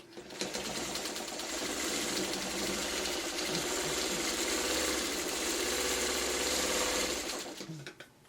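A sewing machine runs a steady zigzag stitch along the edge of flannel fabric for a pillowcase, its motor and needle whirring loudly and continuously at close range with no talking.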